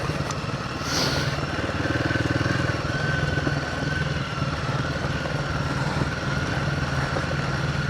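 A Royal Enfield Himalayan 450 motorcycle engine drones steadily while riding on an open road, a moderate, continuous mid-pitched hum with slight swells.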